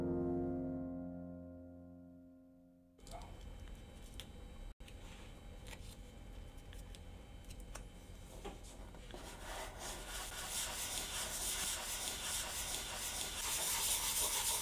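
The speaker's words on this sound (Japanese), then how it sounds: "茎の凹凸によってバイオリンの表面が磨かれていきます。" Violin wood being polished by hand with dried horsetail stems in a workshop, a steady close scratchy rubbing that starts after a quiet moment and grows slightly louder and brighter toward the end, with no talking.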